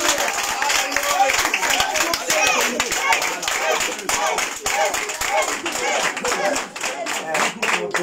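Church congregation applauding and cheering for Jesus at a worship service, dense steady clapping from a crowd filling the room for several seconds, with voices shouting and talking underneath.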